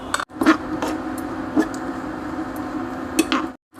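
Coconut pieces fry in ghee in a small frying pan over a medium flame. A steady, even sizzle runs throughout, broken by a few sharp clinks of a utensil against the pan.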